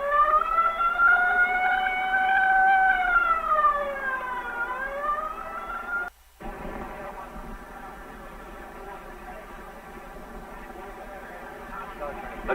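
A wailing siren rises and falls near a drag strip at a 1970 NHRA National Top Fuel event, heard alongside an announcer's voice. The siren is cut off abruptly midway and followed by steady crowd and engine noise.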